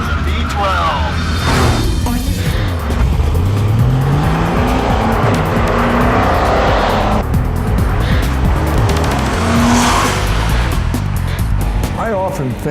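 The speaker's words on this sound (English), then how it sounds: "I love the sound of the V12." A high-revving Ferrari V12 race car engine howls past on a track with rising and falling pitch, tires squealing, the roar loud and continuous throughout.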